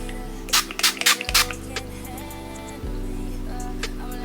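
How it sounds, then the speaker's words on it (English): Several quick hissing bursts of Don't Sweat It makeup setting spray fire close up in an uneven cluster, followed by quieter handling noises over a steady background hum. "let me spray this out because it kind of squirts a little weird"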